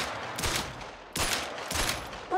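Pistol shots from a 10mm Davani fired at a bison in theHunter: Call of the Wild: three separate loud bursts of rapid fire, each lasting a fraction of a second, with short pauses between them.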